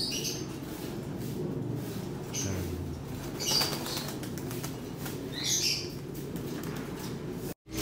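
Several racing pigeons, just released from a loft, flap their wings in bursts at close range, with a few faint squeaks and chirps over a low, steady background hum.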